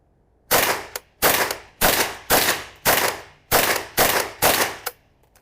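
Rapid series of sharp, loud gunshots from an AR-7 survival rifle, about eight close reports fired at a steady pace with brief ringing decay between each, no talking.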